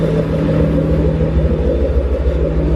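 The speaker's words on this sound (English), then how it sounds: "You guys gotta check out my exhaust." Ford Mustang Shelby GT500 with off-road pipes and an H-pipe in place of the cats, idling with a steady, deep, loud exhaust rumble that holds even throughout.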